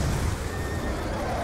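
Horse neighing in the Call of Duty: Black Ops 2 Afghanistan mission, a steady noisy whinny lasting over a second amid dense battlefield background sound.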